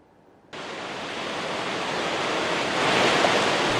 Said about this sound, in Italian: che è il fiume Brenta a Bassano